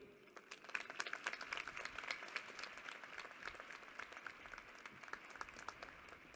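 An audience at a graduation ceremony applauds to welcome a speaker, steady dense clapping from many hands, soft and somewhat distant.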